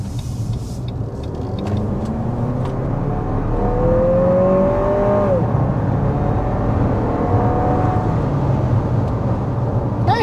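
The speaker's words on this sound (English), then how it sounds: "Just like that, we accelerate up to about 60 miles per hour in the NX 350." A 2024 Lexus NX 350 F-Sport accelerating hard up to about 60 mph, with a steady cabin engine drone and road roar that rise as a tone sweeps up through the gears, heard from inside.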